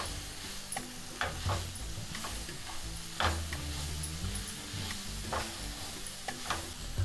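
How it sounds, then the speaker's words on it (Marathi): Chopped radish greens being sautéed in a pan after flour was roasted, for a Maharashtrian mulyachi bhaji: continuous close sizzle with stirring scrapes and occasional ticks of the spoon against the pan, no talk. "मुळ्याची भाजी आपण धुवून चिरून घेतलेली आहे तिला थोडी आता आधी परतून घ्यायची आहे"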